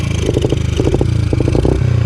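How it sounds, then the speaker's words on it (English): A motorcycle engine revs on a dirt trail with a first-time rider at the controls, rising and falling in close, loud pulses over a steady low idle with some clatter. "you don't have to rev it that high"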